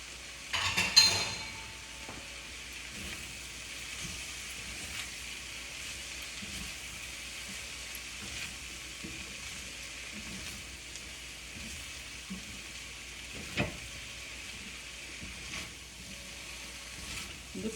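Cabbage with crushed fenugreek leaves is stirred in a frying pan, giving a faint, steady sizzle with soft scraping and a couple of sharper utensil clinks against the pan.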